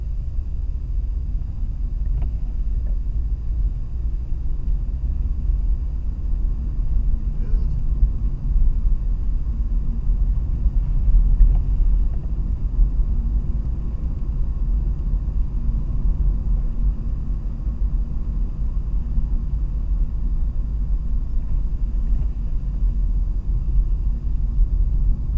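A car driving fast on a straight, a steady low engine and road rumble from inside the cabin that holds an even drone throughout, with no talking.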